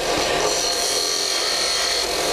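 A skew chisel cuts wood on a spinning lathe while turning a cove, producing a continuous loud, close shearing hiss with a steady motor hum underneath and no voices.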